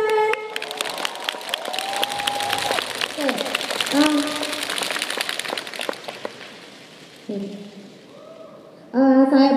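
An audience at a Nu Skin convention breaking into applause, a broad wash of clapping that holds for several seconds and then fades, with tones and a voice sounding around it.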